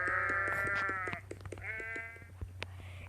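Sheep on an island bleat in two close, loud calls, the first longer and wavering, the second shorter, over a steady low hum.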